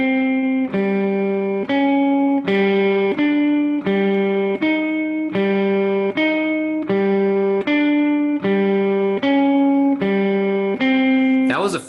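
Guitar exercise in fifth position, beginning on open G, plays a slow, steady series of single sustained notes, each ringing clearly before the next, close and alone.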